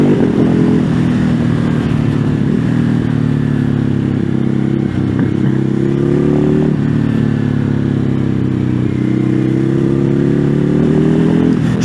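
A Ducati Hypermotard 950SP motorcycle is ridden, its twin-cylinder engine droning steadily and loud throughout, with slight rises and dips in revs and wind rush, no talking.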